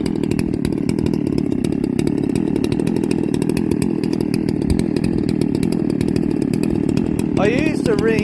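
A Stihl MS660 chainsaw fitted with a 56mm cylinder and pop-up piston, with the base gasket deleted, runs on its first start: a loud, continuous, thumpy two-stroke roar close by.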